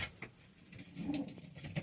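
Soft, low pigeon coos come in a few short bursts, close by and fairly quiet, with faint rustling between them.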